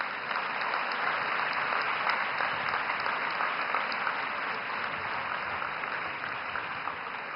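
Steady, dense applause from a large convocation audience at Sri Sathya Sai Institute, sustained at an even level throughout with no talk over it.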